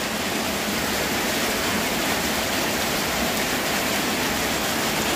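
Steady rain falling outdoors, a dense, even hiss of droplets that holds constant at moderate loudness with no voices.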